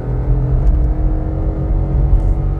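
A VW Polo 1.0 with a naturally aspirated engine accelerates in second gear. The engine drones and revs steadily, close and loud, with no talk over it.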